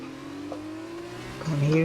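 F2 race car engine from the F1 2021 racing game holds a steady whine, then climbs sharply in pitch near the end as it revs harder, with a hint of tire squeal.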